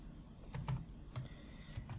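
A handful of quiet keystrokes on a computer keyboard while writing LaTeX, soft irregular clicks spaced over about two seconds, close but faint, no voice.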